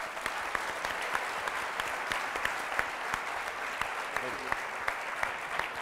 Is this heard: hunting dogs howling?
no